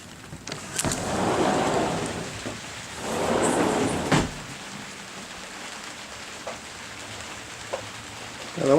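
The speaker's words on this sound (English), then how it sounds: "Now, the one thing about rain, it's a complete pain in the arse," Rain falling on the roof of a newly built man cave, a steady soft patter with two louder swelling gusts early on, then quieter scattered drips.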